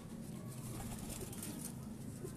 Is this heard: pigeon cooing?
yes